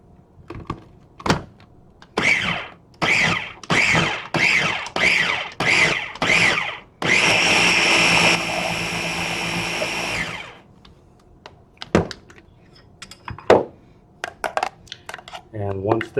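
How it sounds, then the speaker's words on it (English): A blender whirs loudly for about three seconds, blending a plant-based cheese sauce with diced red pepper. Several dull thunks come before it, and scattered knocks and clatter follow. "I'm just going to give this a quick blend up"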